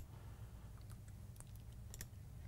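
Quiet, sparse clicks from a computer mouse at a desk, a few light taps scattered over a low steady hum, with no talking.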